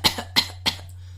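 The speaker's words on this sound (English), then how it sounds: "if you're just going to cough, you're just going to" A person gives three short, sharp coughs, close and clear, with the last one a little softer, and then falls silent.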